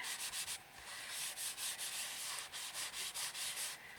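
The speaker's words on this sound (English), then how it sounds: "I'm going to give it a wee rub over with my embossing buddy" An embossing buddy rubbed over cut cardstock in quick, repeated back-and-forth strokes, a close, soft, hissing scrape with a steady rhythm and no voices.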